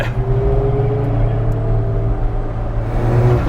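Alfa Romeo 4C mid-engine sports car driving on a twisting road near Monaco, its engine droning steadily from inside the cabin with a sustained low hum and no talk over it.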